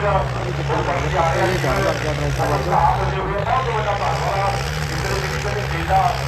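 A tractor prepared by Bhullar Diesel Pump of Mohali runs at a village trolley-pulling contest in Ghurani Kalan, its steady low diesel drone continuing under loud voices and crowd noise.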